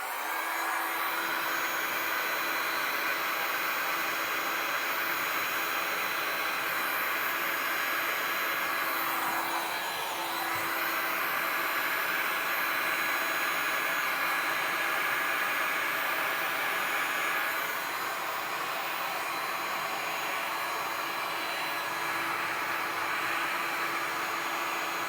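A heat gun blows hot air over a resin tray with a continuous loud whooshing roar that holds steady throughout. It is close by and alone, with a slight dip partway through.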